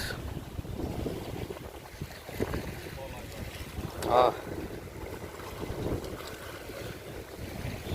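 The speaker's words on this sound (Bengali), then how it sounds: "আহ পানির আওয়াজ" Steady rushing wind and lapping water in the Rangamati hills fill the scene, with a brief louder splash or gust midway; the sound is continuous and moderately loud throughout.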